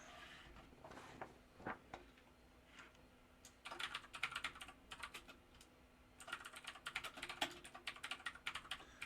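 Typing on a computer keyboard comes in quick, irregular bursts of close, crisp keystrokes, with a quieter scattered stretch early on and dense runs later, set against a faint hum.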